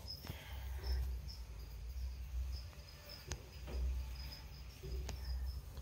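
Crickets in a breeding cage stirring about, faint scratchy rustling with a few sharp clicks and chirps over low background rumble, no voices.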